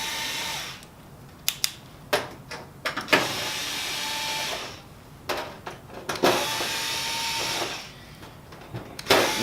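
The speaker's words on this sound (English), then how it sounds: "Get your screwdriver." A screwdriver backs out cover screws on a Kyocera TASKalfa 3501i/5501i copier, with repeated short whirring bursts of a powered driver separated by clicks and brief pauses against a steady background hum.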